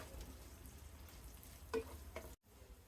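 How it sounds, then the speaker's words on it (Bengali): Onions frying in oil with bay leaf, cinnamon, cardamom and mace for prawn biryani, a quiet steady sizzle with a couple of brief stirring scrapes and a short dropout near the end. "পেঁয়াজগুলোকে হালকা বাদামি করে ভেজে নিয়েছি"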